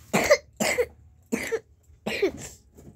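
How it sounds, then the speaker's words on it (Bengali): Four separate coughs in a row, close and fairly loud, with short pauses between them and no talk. "কাশি ধরেছে প্রচুর"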